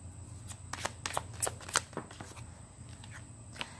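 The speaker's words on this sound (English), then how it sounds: "I'm going to first pull a card for the heart of the reading" Tarot cards are shuffled and drawn by hand, giving a series of quiet, crisp riffles and flicks in uneven bursts, close and soft against a faint steady hum.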